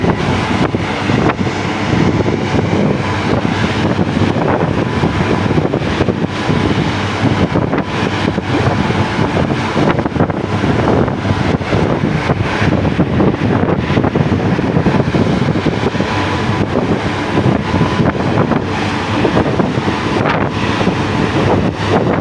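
Strong wind buffets the microphone in a continuous, loud rumbling roar, gusting unevenly throughout with no voices.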